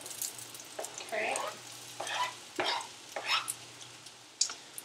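Celery, shallot and half an onion hit a hot pan and are stir-fried, making a sizzling hiss broken by scraping, stirring strokes and a few clatters of the utensil, fairly close, no voices.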